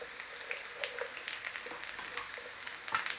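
Potato pieces fry in hot oil for a golden potato, bacon and cheese casserole, giving a quiet, steady sizzle scattered with small pops and crackles, close and without talk.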